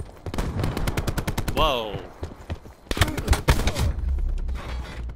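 Rapid automatic gunfire rattles in bursts in Call of Duty Black Ops 4, loud and close. A player exclaims briefly over the shots before a short second volley.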